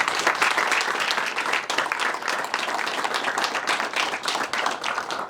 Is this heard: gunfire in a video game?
no